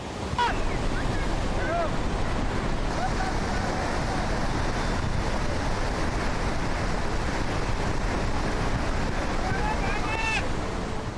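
Flash flood water slamming into the Tapovan barrage makes a loud, unbroken roar of rushing, churning water mixed with heavy wind buffeting. Faint voices are heard underneath.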